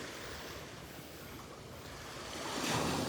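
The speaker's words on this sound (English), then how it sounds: "See how these waves are coming up and just kind of spreading things out on the beach?" Ocean waves wash up on the beach at Delnor-Wiggins, a steady broad hiss of surf with some wind, swelling louder as a wave breaks toward the end.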